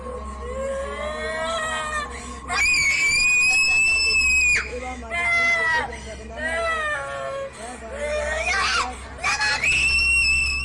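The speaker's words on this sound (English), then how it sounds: "A pair of women are praying over the girl as she screams and looks to be in incredible distress." A girl screams wildly and in distress while a pair of women pray over her, the long, loud, piercing wails rising and breaking repeatedly, with voices mixed underneath.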